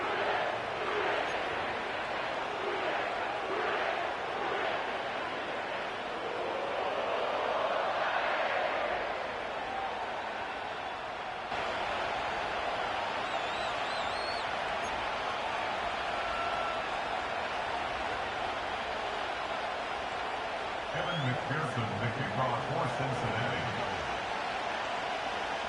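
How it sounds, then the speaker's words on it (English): A sellout stadium crowd roars at Paycor Stadium in Cincinnati during a night football game, with a broad, continuous rumble of cheering, distant and dense, with swells and a few shouts. "sellout crowd has arrived at Paycor Stadium in Cincinnati"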